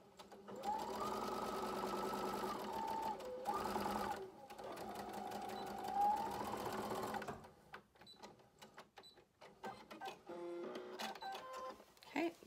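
A sewing machine stitches a cotton gaiter in a steady, close whirring run for several seconds, pauses briefly, then runs again before stopping; scattered handling clicks and faint movement follow in the quieter end.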